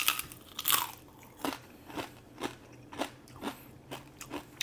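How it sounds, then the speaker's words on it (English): Crispy lechon porchetta skin is bitten and chewed, giving a loud first crunch followed by a run of sharp, close crackling crunches at a steady chewing rhythm. "All right, this is the crunch test."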